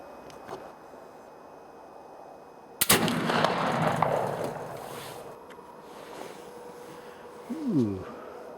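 A single sharp, loud blast from a Traditions Kentucky flintlock rifle fired at a range, followed by a rumbling, decaying echo; quiet background before the shot.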